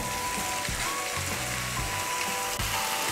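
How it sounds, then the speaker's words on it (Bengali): Hot water poured into a pan of mixed salt and sugar for a Bengali jackfruit curry, giving a steady broadband hiss and sizzle with faint scraping clicks, continuous and close throughout. "এখন এর মধ্যে আমি দিয়ে দেব গরম জল।"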